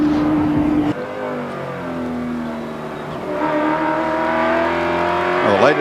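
A Holden touring race car roars past on the racetrack, its loud engine note sliding down in pitch as it goes by, then a second car rising and revving into the distance.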